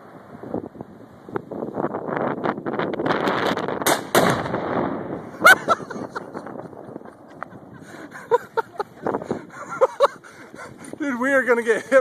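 A .300 Win Mag rifle shot strikes a Tannerite explosive target outdoors, giving a sharp loud burst in a gusty open-air setting with wind buffeting the microphone, followed by people talking.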